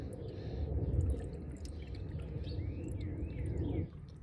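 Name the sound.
water poured from watering can into Vevor garden jet pump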